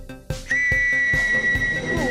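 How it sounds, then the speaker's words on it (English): A hand whistle blown in one long, steady, piercing note that starts about half a second in and holds to the end, over a steady rhythmic thumping beat. "let me blow my whistle and you just listen."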